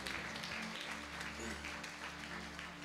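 A church congregation applauding together, a dense, sustained patter of hand claps that fills the space for a few seconds.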